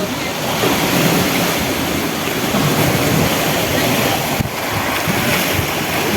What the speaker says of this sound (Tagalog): Nakaka-refresh yung hampas ng alon.